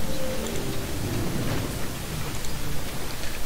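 Rainstorm in the video game Jurassic Park Operation Genesis, a dense steady hiss of falling rain with low rumbling underneath, constant throughout and without speech.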